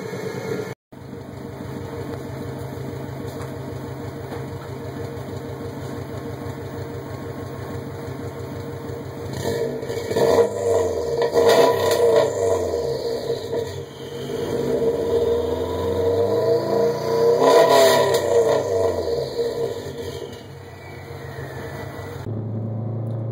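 A 2006 Subaru WRX with an aftermarket M2 exhaust idles with a steady low rumble, then revs up twice in swelling surges before settling back down.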